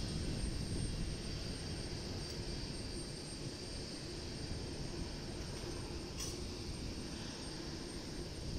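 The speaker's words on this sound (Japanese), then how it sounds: "東京羽田空港行き、こちらもボーイング787のドリームライナーで運行されていますから" A JAL Boeing 787 Dreamliner jet at Itami Airport (Osaka International) gives off a steady broadband roar, continuous and fairly distant, with no voices over it.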